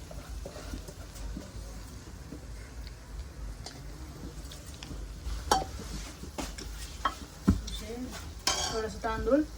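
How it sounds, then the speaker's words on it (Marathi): Washed rice is stirred and sautéed in a pan for pav bhaji, with soft sizzling under repeated metal spoon scrapes and clinks against the pan, louder clatter near the end. "थोडस तांदूळ परतून घेऊ."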